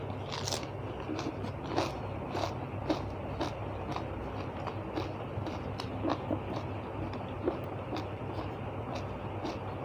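Crunchy giant octopus tentacles from a Thai papaya salad with sweet pickled garlic are chewed close up, with steady repeated crisp bites and crackles for about ten seconds and no talking.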